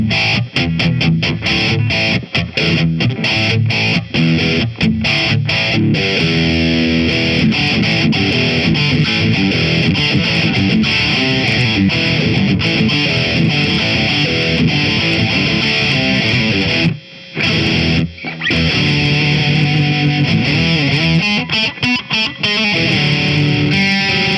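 Electric guitar played through a BOSS Waza amp head and 2x12 cabinet on its deep setting gives a loud, dense, distorted tone that rings continuously, broken once by a brief silence near the end.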